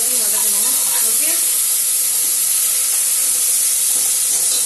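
Tomatoes sauté for a mutton gravy in a loud, continuous hiss and sizzle that stays steady throughout, with faint speech-like sounds in the background.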